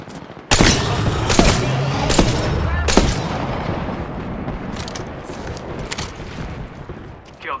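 Video game gunfire: four loud, sharp shots in quick succession, then fainter distant bursts, over a steady noisy background.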